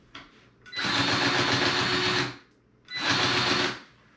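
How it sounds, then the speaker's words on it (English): A grease gun pumps grease into a zerk fitting through a coupler, making two separate bursts of motorised whirring, the first longer than the second, with short quiet gaps between them. "placing the coupler onto the grease zerk and apply the grease until it comes out of the joint"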